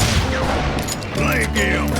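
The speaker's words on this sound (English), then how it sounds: "Sounds like Garrett hired a whole regiment of hired guns" Heavy overlapping gunfire from many guns in Call of Juarez Gunslinger, a loud continuous fusillade of shots and booms with ricochet-like whines near the end, alongside game voices.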